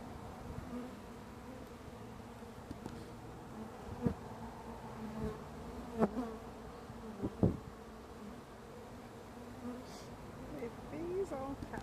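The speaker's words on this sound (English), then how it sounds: "It is full of bees." Honey bees swarm over the brood frames of an opened backyard hive, a steady close buzzing drone broken by a few soft knocks and clicks as the frame is handled.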